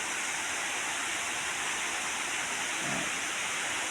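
Rushing river water swelling after heavy rain in the Philippines, a continuous broadband roar like a waterfall, steady and fairly loud with no voices.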